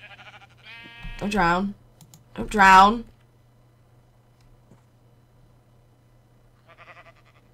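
Sheep in the Minecraft video game give two clear bleats in quick succession, then another faint bleat later, over a low steady hum, with a person speaking briefly and keyboard typing at the start.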